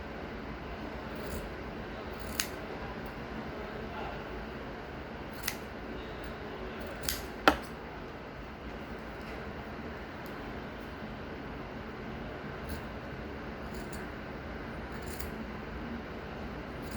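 Scissors cut fabric belt holder pieces for trousers, giving a few sparse, sharp snips over a quiet, steady background hum.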